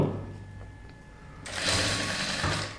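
A tailoring sewing machine stitching elastic onto folded fabric starts after a quiet moment with faint background noise, then runs as a loud, steady rapid whir close by.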